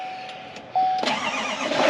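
A GMC 3500 pickup with the L5P diesel engine starting up, beginning with a faint electronic chime and a brief crank before the engine catches, then settling into a loud, steady diesel idle close by.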